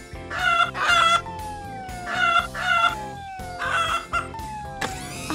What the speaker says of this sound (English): You've started clucking like a hen.